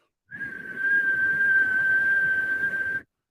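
A person whistles a single steady high note for about three seconds, imitating the whistle of an HVAC return grill, close and clear with airy breath underneath.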